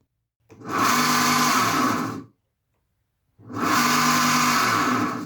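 A loud, harsh motor whine from an old BTs1.1-20U surface water pump runs for about two seconds, cuts to silence, then starts again at the same roaring level, close by.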